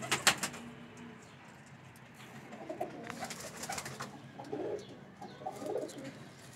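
Teddy breed pigeons in a breeder pair coo softly and repeatedly at close range, low throaty burbles rising and falling, mixed with a few light flutters and small knocks.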